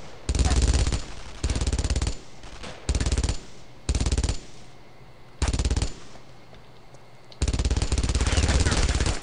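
Long bursts of rapid MG42 machine gun fire in the World War II shooter Brothers in Arms: Road to Hill 30, loud and close, with short quiet gaps between volleys.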